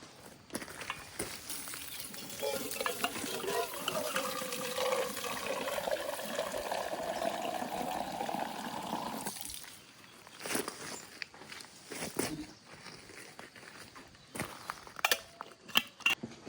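Water runs steadily from a tap for a farm-morning coffee, a faint continuous splashing stream that stops after about nine seconds, followed by scattered soft clinks and handling noises.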